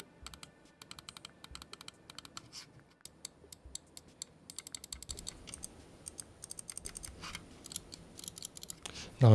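Button clicks from a blacked-out Lofree Hypace mouse, a run of sharp, close clicks in quick irregular bursts, with a louder knock at the very end.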